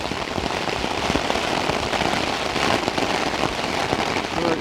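Heavy rain pours steadily during a storm, dense close hiss with scattered drop impacts on a surface, continuous and loud for the whole stretch with no voices.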